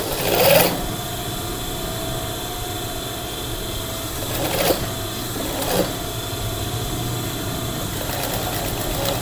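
A sewing machine runs steadily while stitching the pocket opening of a tight dress being repaired, a continuous whirring hum with a few brief louder knocks, no voices.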